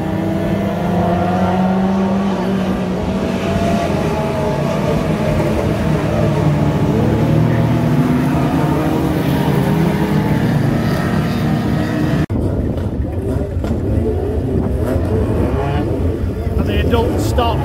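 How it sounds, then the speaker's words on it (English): Adult stock cars racing flat out at a Warton Stock Car Club meeting, a loud, continuous engine roar that stays sustained throughout, then thins abruptly near the end, with commentary talk over the top. "adult stocks, these are the ones that are really noisy and go really super fast"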